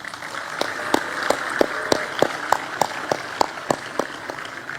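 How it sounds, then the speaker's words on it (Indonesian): Scattered, sparse clapping at a school ceremony: a few distinct claps land at a loose, fairly regular pace over a faint background hum, with no talking. "Tepuk tangan dong."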